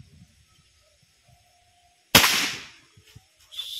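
A single sharp crack from a GAMMA Sporty air rifle breaks near-silence, a loud close report with a brief decaying tail, followed by faint rustling.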